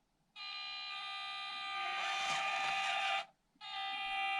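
Slow crawl of a 1/18 scale HobbyPlus CR-18 Kratos RC crawler fitted with a larger electric motor, a steady whining motor tone that swells, cuts out briefly, then resumes.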